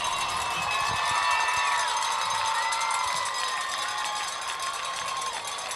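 High school football game crowd at Norwood versus Purcell, a broad sustained wash of cheering and shouting from the stands with scattered whistles, steady and fairly loud throughout.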